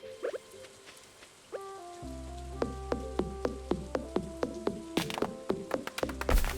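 Rain falling in a video game, a steady patter with a regular series of sharp drops or ticks over a low hum, fairly quiet with no speech.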